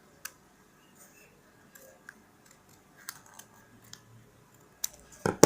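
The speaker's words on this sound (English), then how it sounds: "cut out this scallop little by little." Scissors snip a scalloped edge into paper for a handmade paper flower: a sparse run of quiet, crisp clicks and snips spread unevenly over a few seconds, with a louder cluster of cuts at the end.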